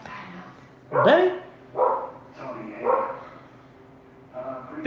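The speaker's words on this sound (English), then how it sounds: "He might be barking at the ghost, man." A dog barks in short bursts, about four or five sharp barks spread over a few seconds, at moderate distance, mixed in with people talking throughout.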